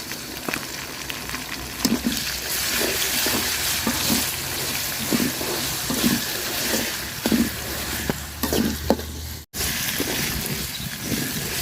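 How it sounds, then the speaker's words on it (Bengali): Ginger, garlic and cumin paste frying with onions for a duck curry, a steady close sizzle with repeated scraping stirs at a regular pace and faint background noise. "তো আদা রসুন জিরাটা আমি ভাজা নিছি সুন্দর করে"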